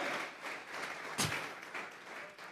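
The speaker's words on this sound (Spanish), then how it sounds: "Vamos a regalarle ofrenda de palmas al Dios de la gloria." Church congregation clapping together as an offering of praise to God during a sermon, a soft, steady wash of distant applause with one brief louder burst near the middle.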